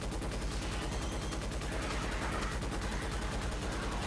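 Sustained rapid turret fire in Starship Troopers Extermination, a dense, steady stream of loud, close automatic gunshots filling the whole stretch without pause.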